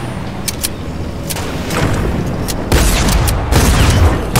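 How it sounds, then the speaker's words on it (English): Video game gunfire striking the player, several loud booming shots and impacts in quick bursts, growing heavier toward the end, with no talk over it. "Oh, I just got shot."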